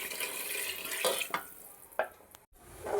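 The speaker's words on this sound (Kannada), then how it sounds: "ಈಗ ಇದಕ್ಕೆ ಸಾಕಷ್ಟು ನೀರನ್ನು ಹಾಕ್ಕೊಳ್ಳೋಣ." Water poured from a vessel into fried masala for vegetable pulao, a close, steady splashing flow with a few sharper splashes, heard alone with no talking.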